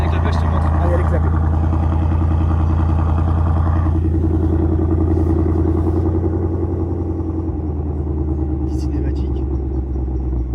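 Ford Mustang engine running with exhaust valves open, a loud deep rumbling idle up close that shifts in tone partway through, with faint voices in the background.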